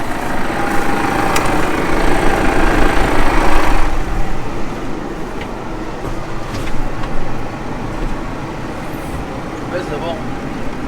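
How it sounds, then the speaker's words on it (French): A tractor engine runs steadily as the machine creeps forward in a field during carrot sowing, a continuous loud rumble with a slight swell partway through. "tu vas faire avancer le tracteur"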